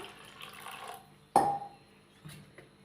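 Water splashes briefly into onion vada batter in a kitchen, one sharp pour followed by a smaller splash, close and fairly quiet against a low background.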